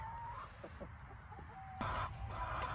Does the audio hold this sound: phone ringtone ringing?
no